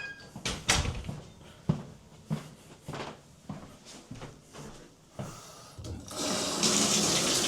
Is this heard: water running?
yes